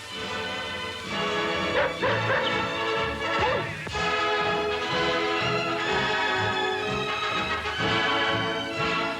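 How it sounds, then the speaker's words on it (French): Several German army dogs in old archive film bark and yip repeatedly, loud and close, in overlapping bursts over a dense, continuous bed of background sound. "Comme toutes les armées, l'armée allemande possède des chiens soumis à un entraînement spécial."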